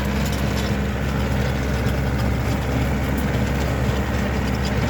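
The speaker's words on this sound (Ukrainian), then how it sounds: "Тракторець з димком не кидає, нічого легко йде, для нього це фреза нічого." A Japanese compact 24 hp tractor engine runs steadily while pulling a rotary tiller through a field, a continuous loud low rumble with even mechanical chatter and no pauses.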